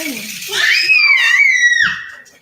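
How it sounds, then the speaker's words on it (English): A child lets out one loud, high scream that rises, holds for over a second and breaks off, alone and close. "A little screaming."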